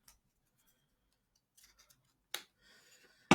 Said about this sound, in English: I'm going to cut this Easter egg out